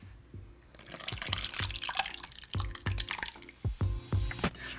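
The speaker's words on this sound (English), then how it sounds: "we're just going to pour our wet ingredients into the dry mixing bowl" Wet waffle batter ingredients pour into a bowl of dry ingredients, giving close, irregular liquid splashes and drips over about five seconds, with no talking.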